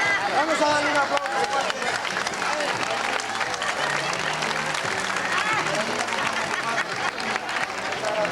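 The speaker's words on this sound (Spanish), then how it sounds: "Vamos a darle un aplauso." Applause breaks out after a live magic trick with magic salt, steady crowd clapping with cheering and voices mixed in throughout, fairly loud and continuous.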